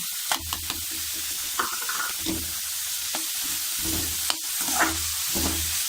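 Cabbage, capsicum, peas and beans fry in a pan, giving a continuous close sizzle with periodic stirring scrapes and no voices.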